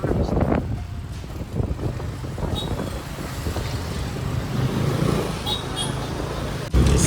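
Road traffic on a street near a temple, a steady low rumble of passing vehicles with wind buffeting the microphone and a brief louder burst at the end, with people talking.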